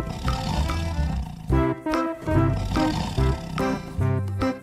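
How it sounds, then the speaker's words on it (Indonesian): A tiger lets out a series of deep, growling roars, several rough bursts in quick succession, loud and close. "Macan yang sangat menyeramkan."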